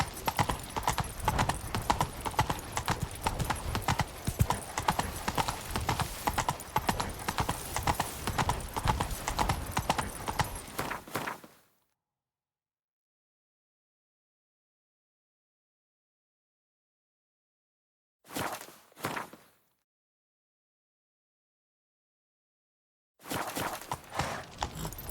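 Hooves of Roach, the horse in The Witcher 3, clip-clopping in a steady rhythmic gait for about eleven seconds, then silence, a short burst of hoofbeats, more silence, and the trotting starting up again at the end.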